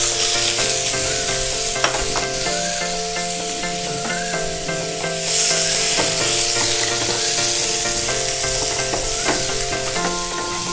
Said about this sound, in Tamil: வெட்டி வச்சுருக்க சின்ன வெங்காயத்தை போட்டு வதக்கிக்குவோம்.